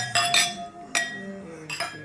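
Glasses clink in a dinner toast to the chef on a New England fall trip: three or four bright, ringing taps close by, spaced unevenly.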